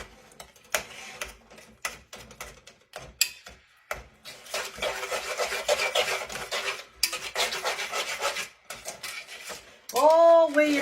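A utensil scrapes and rubs around a pan while oil melts with salt over low heat for yeast rolls, a close, irregular rasping that starts sparse and grows steadier, with a brief voice at the end.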